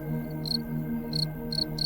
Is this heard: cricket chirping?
yes